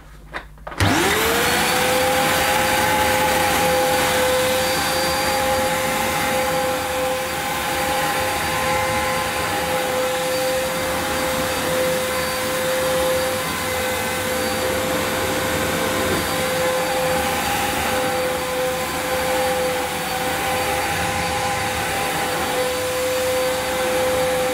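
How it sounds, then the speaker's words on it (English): An Electrolux Cyclonic Lite bagless upright vacuum cleaner starts up on carpet after a brief click and runs steadily and loudly, with a constant motor whine, agitator growl and roar throughout. "we'll see how noisy this Electrolux Cyclonic Lite vacuum is"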